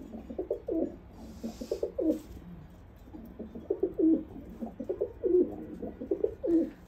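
Soft, repeated cooing of several pigeons close by, overlapping throaty calls in an uneven rhythm with no talking.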